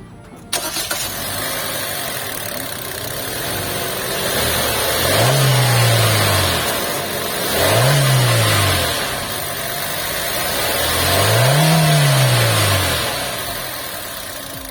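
The 1500cc naturally aspirated engine of an all-new Hyundai Creta with CVT transmission revs three times from idle, each rise swelling and falling back, heard close and loud with a steady engine hum between the revs and no talk.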